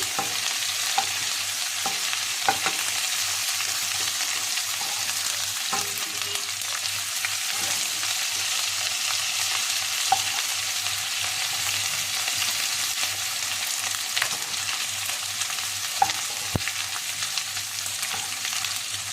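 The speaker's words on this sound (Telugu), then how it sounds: "బాగా గోల్డెన్ బ్రౌన్ కలర్ వచ్చేంత వరకు దీన్ని ఫ్రై చేసుకోండి." Chicken for Arabian kabsa fries in a pan with spices until golden brown, giving a steady broadband sizzle that runs throughout with occasional stirring clicks and scrapes, no talking.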